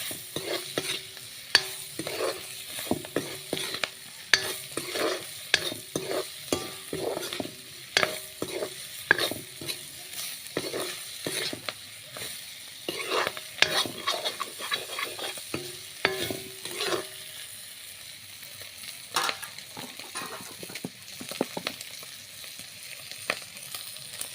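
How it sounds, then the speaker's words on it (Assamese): Dried fish with ginger and garlic sizzles in a pan while a utensil scrapes and stirs in a steady rhythm of clanks and scrapes, close and continuous for over twenty seconds, with no talking. "শুকান মাছৰ গোন্ধটো নোলোৱাবৰ কাৰণে অলপ মই ভালকৈ ভাজি ল'ম।"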